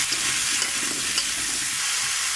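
Potatoes fry in a pan with a little salt, a close, continuous hiss and crackle of hot oil with soft scraping as they are stirred.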